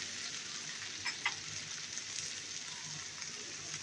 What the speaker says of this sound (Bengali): চুলার আঁচটা একদম একরকম করেই করলা আলুটা ভেজে নিতে হবে।